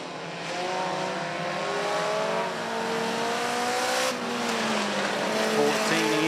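Race cars in a weekly division event at Willard Speedway roar past as the field comes by. Engine notes swell and drop away as the cars pass in close succession.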